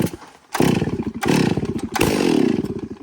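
A Stihl 066 chainsaw ported by Rattler Work Saws is drop-started, firing and roaring up loudly in three quick bursts, with brief pauses between them.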